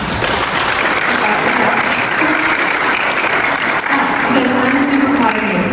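A youth crowd claps loudly in a steady round of applause that fills the space evenly and continues throughout, with a few faint voices mixed in.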